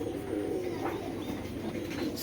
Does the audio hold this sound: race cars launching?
no